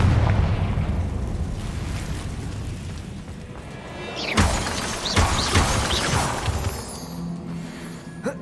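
Confringo blasting spells burst in Hogwarts Legacy, throwing out a run of sharp, crackling explosions with shattering debris, loudest in two close hits midway, over a rumbling battle backdrop.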